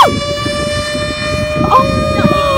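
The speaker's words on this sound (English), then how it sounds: "the tornado siren is like really loud and nobody can hear us." A tornado siren wails loudly and steadily through the whole stretch, its drawn-out tone holding under wind noise and faint background sounds.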